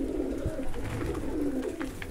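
Young pigeons coo softly in a pigeon loft, a close, continuous low burbling with overlapping rolling coos and no voices.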